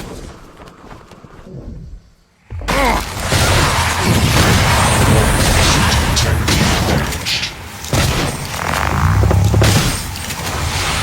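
A heavy shotgun blast booms in a video game, one loud burst followed by continuous crashing, rumbling combat noise with brief drops, no voices.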